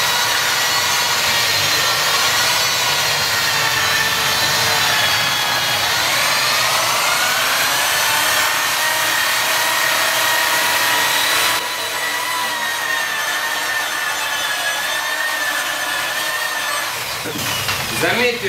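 A power polisher buffs a lacquered surface, a loud continuous whirring drone whose pitch climbs gradually as the speed increases, close and steady throughout.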